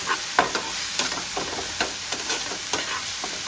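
Fenugreek leaves and garlic sauté in a pan with a steady close sizzle, broken by repeated scraping stirs at a loose, regular rhythm.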